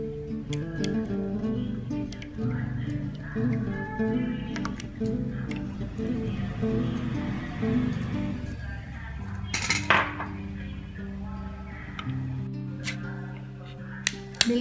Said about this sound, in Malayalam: ആദ്യമായി നമുക്കിതിലേക്ക് ഇവാപൊറേറ്റഡ് മിൽക്ക് ഒഴിച്ച് മിക്സ് ചെയ്യാം.